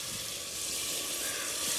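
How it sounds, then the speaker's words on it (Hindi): Steady crackling sizzle of garlic paste frying in hot oil, dense and continuous with bright hiss, fairly close, no talking. "तड़का लग चुका है और ये देखिए मैंने लहसुन का पेस्ट जो है वो बना लिया है"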